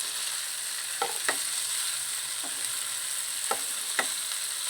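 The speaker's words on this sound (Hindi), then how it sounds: "थोड़ा उसे सौटे करके फिर हम बाकी के मसाले डाल देंगे।" Capsicum (bell pepper) sautéing in a pan gives a steady sizzle and hiss, with a few soft stirring scrapes scattered through it. No one speaks.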